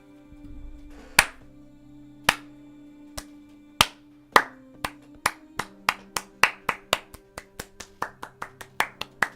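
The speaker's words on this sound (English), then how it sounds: "So many rounds of applause right now." Applause in the finale of the video game Zero Time Dilemma: sharp individual claps, slow and sparse at first, then quickening into a steady rhythmic series over a low background hum.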